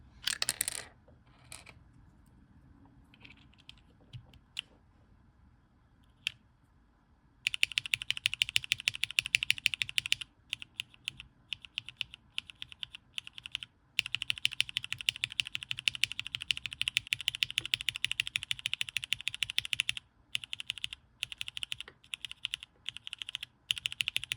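Mechanical keyboard keys with Hyperglide switches clack rapidly and crisply up close, bursts of fast typing separated by short pauses and a few isolated presses.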